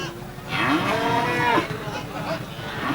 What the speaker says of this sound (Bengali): খুবই সুন্দর গরু